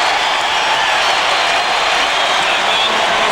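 Basketball arena crowd at Rupp Arena during a Tennessee vs. Kentucky game, on their feet cheering in a steady, loud roar of many voices that fills the space.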